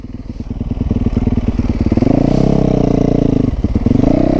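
A motorcycle's exhaust braps loudly and up close while it rides, with a rapid low pulsing that swells into a steady roar around the middle, briefly drops back and then surges again.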